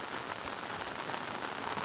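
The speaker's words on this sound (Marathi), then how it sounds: "पावसाने नागपंचमीच्या दिवशी हजेरी लावली असून" Steady moderate rain falls during the Nag Panchami monsoon season, a continuous even hiss of drops on surfaces, faint and spread out, with no voices.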